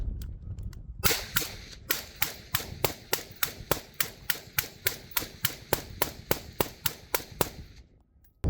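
Sharp suppressed 5.56 rifle gunshots fire in a steady string of about twenty evenly spaced reports, loud and close, each followed by a brief ringing tail, with quiet before and after.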